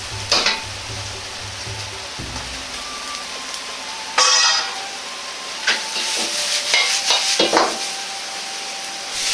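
Liver, bean sprouts, carrot and garlic chives are stir-fried in a wok with loud sizzling and hissing, broken by bursts of scraping and tossing as the spatula moves the food.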